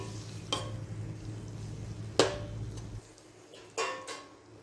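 Tomatoes and garlic-ginger paste are stirred in a pan, with a low background hum, a few sharp clinks and scrapes of the spoon against the pan, and a faint sizzle throughout.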